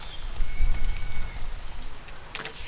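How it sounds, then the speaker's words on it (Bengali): Light rain falling outdoors, a soft, continuous patter with a few scattered drop taps, moderately close and without speech. "আজকেও কিন্তু বৃষ্টি পড়তেছে একটু একটু করে"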